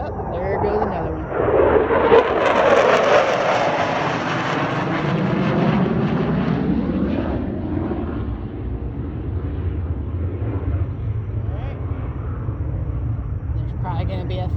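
An airplane flies overhead outdoors, a loud roar that swells to a peak and then fades into a lingering distant rumble, with no talk during the pass.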